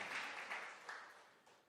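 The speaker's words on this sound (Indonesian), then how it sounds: "Berikan tepuk tangan yang meriah buat Tuhan" A church congregation claps during a worship service, a soft, distant wash of applause that fades away within a couple of seconds.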